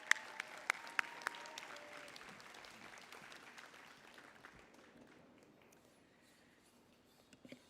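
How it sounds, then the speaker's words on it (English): Applause for students receiving awards at a school ceremony, a steady crowd clapping with a few sharper claps early on, fading gradually over several seconds. "And another round of applause, please, for all of the students who received these awards."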